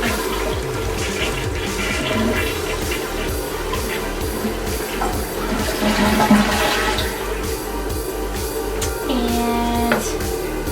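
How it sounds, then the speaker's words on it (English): A toilet flushing up close in a bathroom after black mold cleaning, with a steady rushing swirl of water, followed by the tank refilling with a hiss and a faint rising whistle near the end. "and then we're gonna flush."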